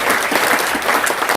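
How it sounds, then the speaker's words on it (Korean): A book concert audience gives a loud, dense burst of clapping for staff, with no voices over it, and the applause cuts off abruptly after about a second and a half. "박수."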